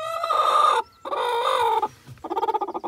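A crested hen clucks up close in three drawn-out, nasal vocal bursts, the last breaking into quick, rhythmic clucks, with no talk.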